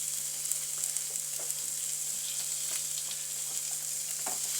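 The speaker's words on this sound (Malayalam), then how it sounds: "ഇതൊന്ന് നന്നായിട്ട് വഴറ്റിയെടുക്കുക" Egg bajji filling with curry leaves sizzles and crackles steadily in a pan as it is sautéed, with occasional stirring scrapes over a faint constant hum and no talking.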